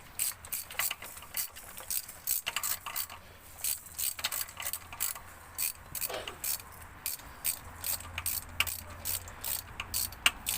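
Ratchet wrench breaking loose and backing out a spark plug on a Ford BA/BF Falcon or Territory engine: a steady run of quick, close mechanical clicks in short bursts, with no talking.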